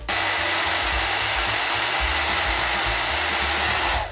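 A hair dryer blows while hair is being dried, a loud, steady whooshing roar that runs continuously for about four seconds, with slight wavering as the airflow shifts.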